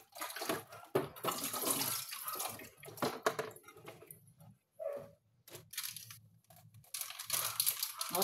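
Water runs from a tap while dishes are washed, a hissing stream that starts and stops, with clinks and splashes near the sink.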